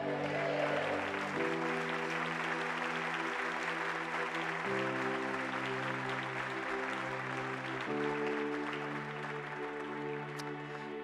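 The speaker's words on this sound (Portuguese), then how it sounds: "bem alto, aplauda ao Senhor" A church congregation applauds steadily, a continuous bed of clapping heard beneath sustained keyboard chords that shift every few seconds.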